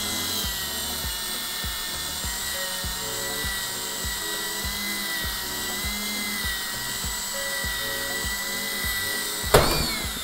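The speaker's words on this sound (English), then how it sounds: "I try to turn the drill around the center of the rivet" Electric drill boring out a pop rivet on a computer case during teardown, a steady high whine with a low rhythmic chatter running underneath, ending in a sharp crack as the bit breaks through.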